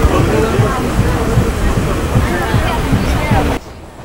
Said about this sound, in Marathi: ट्रेन आता चिपळूण स्टेशनवरून सुटली आहे